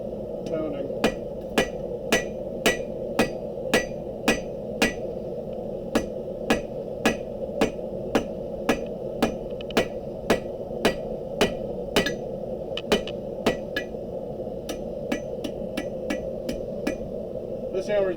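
Steady blows of a 2.5-pound hammer, roughly one per second, sharp metallic strikes repeating over a low background hum, close by and loud.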